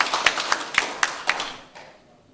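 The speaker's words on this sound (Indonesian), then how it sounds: "Beri tepuk tangan semangat kepada para paslon." A small audience at a regency-head candidate debate in Nias claps for the candidate pairs, a sparse string of distinct claps at a fairly regular beat that fades out within about two seconds.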